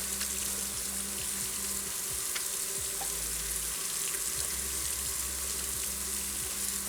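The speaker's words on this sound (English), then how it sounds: "now that I'm done with raw meat, I can wash my hands and be set." Running tap water pours steadily into a kitchen sink as hands are washed after handling raw meat while cooking beef bourguignon, a continuous close, even wash with no talk.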